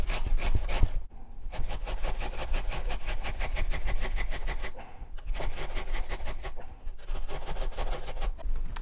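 A carrot is grated on the large holes of a kitchen grater, giving a fast, regular rasping rhythm of close scraping strokes with two short pauses.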